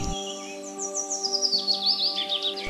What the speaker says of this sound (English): The Vanellinae are collectively called lapwings, noted for its slow, irregular wing beat in flight and their shrill wailing cry.